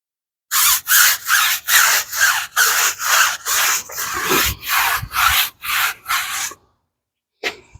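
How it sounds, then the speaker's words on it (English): A tire brush scrubs a tire in a dozen quick, even back-and-forth strokes, loud and close with a bristly rasp, then stops, followed by one brief final scrape. "let's get the tire brush, scrub this thing down"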